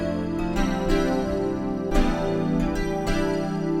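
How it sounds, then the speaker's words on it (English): A stock 90s piano preset called Glass Xylophone Stack plays a lush, sustained run of layered chords, with bright mallet-like attacks coming every second or so over a dense, steady bed of tone, with no voices. "and it's a 90s piano sound, and it's called Glass Xylophone Stack."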